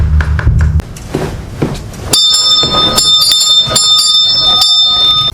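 A bell rings repeatedly inside a hotel in a horror film, bright sustained chimes struck several times and layered over one another, loud and close, following a brief stretch of low rumbling noise.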